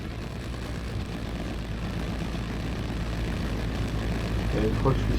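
A light aircraft's propeller engine drones steadily and close on a long landing approach toward a field, a continuous low rumble mixed with wind noise that swells slightly toward the end.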